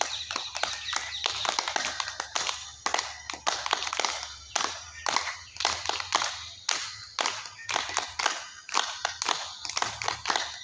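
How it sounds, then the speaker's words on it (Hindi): Audience at a yoga camp in Jaipur clapping in a rhythmic group pattern, repeated bursts of sharp, loud claps in regular beats close by, with talk in between. "ताली बजाएंगे, जोश ताली बजाएंगे"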